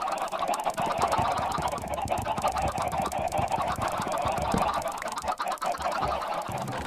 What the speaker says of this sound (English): those chickens are obnoxiously loud